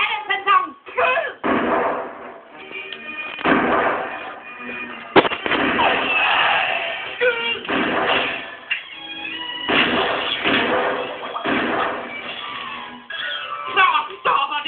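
Cartoon gunfire aimed at Daffy Duck in a Looney Tunes rabbit-season, duck-season routine: repeated sharp bangs burst out among music and voices, with loud shots recurring across the whole stretch.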